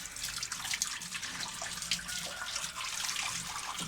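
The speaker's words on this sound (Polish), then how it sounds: "Woda teraz będziemy lać." Water pours from a basement tap into a bottle, making a steady, close splashing rush with bright bubbling and gurgling that continues throughout without speech.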